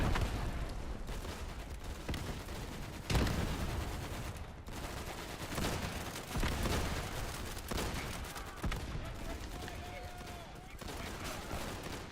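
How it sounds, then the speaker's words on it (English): Gunfire crackles almost nonstop through a first-person shooter match in the game Easy Red 2, with a grenade blast thumping in around the three-second mark and a few other bursts popping amid the dense, steady firefight. "Grenade!"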